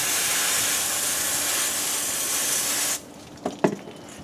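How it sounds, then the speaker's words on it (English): A garden hose sprays water steadily and loudly for about three seconds during engine bay cleaning on a GMC, then cuts off abruptly, leaving a few faint knocks and handling sounds. "Up, turn the hose on, Scott."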